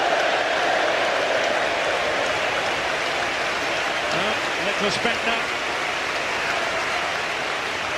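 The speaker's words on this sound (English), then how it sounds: "Here's the applause from the Arsenal fans." Arsenal fans applaud in a football stadium, a broad, hissing wash of distant clapping and crowd noise that stays steady throughout, while a commentator briefly speaks over it.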